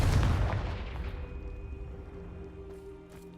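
Confringo spell blast in Hogwarts Legacy, a loud booming explosive burst at the start that rolls off into a fading rumble and ringing tail over a few seconds, no talking.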